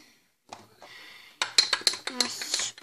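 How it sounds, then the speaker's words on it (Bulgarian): A utensil stirs a jelly mixture, clinking and scraping against the bowl in a busy run of sharp taps after a quieter start with faint background sound. "Аз ще продължавам да разбърквам"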